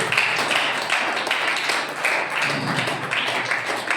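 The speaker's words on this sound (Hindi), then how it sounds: "ताली बजा के परमेश्वर को धन्यवाद दे।" A church congregation claps together at a Sunday service: dense, steady applause fills the whole stretch, swelling in slight rhythmic waves and staying fairly loud and close, with no voices over it.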